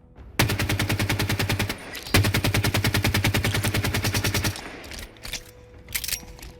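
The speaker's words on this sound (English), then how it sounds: "the fancy new model and sound effects for the assault rifle" An assault rifle firing in Halo 5, two long rapid automatic bursts of evenly spaced sharp shots, loud and close, followed by scattered quieter game sounds.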